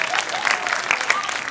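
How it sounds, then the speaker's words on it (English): An audience at a San Diego comedy show breaks into short applause, with scattered claps and some voices or cheers mixed in. "That does deserve applause."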